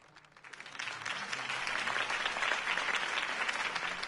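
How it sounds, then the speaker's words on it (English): A crowd breaks into sustained applause, many hands clapping steadily and building quickly to a full, even roar. "could have heard that applause"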